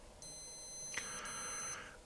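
Electronic timer alarm of a Casio G-Shock GPR-B1000 Rangeman watch: a faint, high, steady beeping that runs for about a second and a half, with a soft click midway, in a quiet room.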